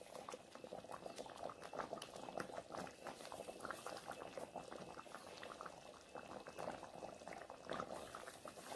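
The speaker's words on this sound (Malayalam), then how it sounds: "കറി നന്നായിട്ട് തിളച്ചുകൊണ്ടിരിക്കുകയാണ്, നല്ല കൊഴുപ്പുണ്ട്." A thick wild mango kalan curry, a Kerala pulissery, bubbles in a pot, giving soft, continuous popping and gurgling that is faint and close, with no talk over it.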